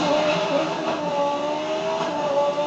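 An Ariel sports car's engine in Need for Speed Most Wanted drones steadily at high revs, a loud, close, continuous whine with no talking over it.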